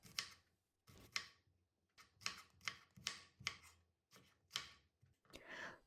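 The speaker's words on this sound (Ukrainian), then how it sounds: "Його я дрібненько нарізаю за допомогою ножа" Knife blade striking a cutting board while finely chopping garlic, a quick series of crisp, close chops with brief pauses between bursts.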